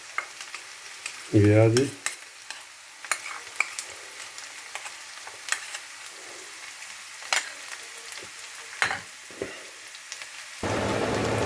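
Ginger garlic paste hits a hot pan with a brief loud sizzle, then settles into quiet frying with scattered crackles and occasional spoon taps while the cook speaks a few words, and a louder rushing hiss comes in at the very end.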